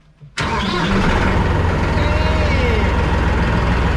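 After a brief quiet moment, a tractor's heavy diesel engine suddenly starts and settles into a loud, close, rumbling idle.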